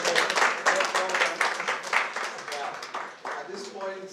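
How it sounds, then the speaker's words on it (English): Audience applause for a speaker at a discussion forum, a steady wash of many hands clapping that holds for several seconds before tapering slightly near the end. "a round of applause."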